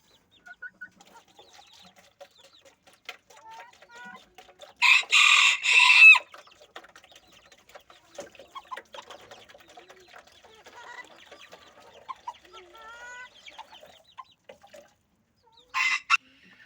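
Farm chickens, hens and roosters, cluck steadily close by, with two loud, strained rooster crows rising above them, one long and one brief.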